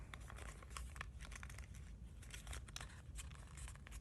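Soft, close crinkling and rustling as paper is creased and folded for an origami crane, continuous and faint, with no talking.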